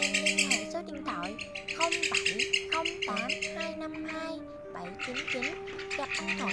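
Song of a white-winged migratory starling used as a bird-trap lure: repeated bright whistled phrases and rising chirps, loud and close, over a steady, sustained low tonal drone.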